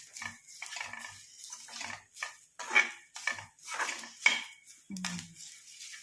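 Ingredients for a homemade hair dye are stirred as they fry in a pan, giving a series of close metallic scrapes and clinks from a utensil against the pan at an uneven pace, with no talk.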